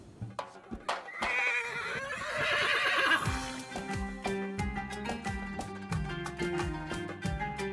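Arabian horses in Egypt neigh in a shrill, drawn-out whinny at close range, followed by a musical backing track that carries on beneath.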